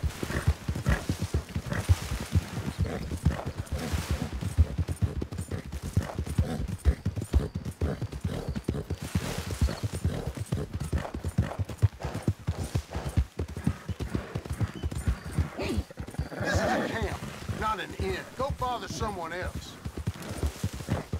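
Horse hooves clip-clop in a rapid, steady rhythm as a horse gallops in Red Dead Redemption 2, with a brief snort or whinny near the end and a voice talking over it.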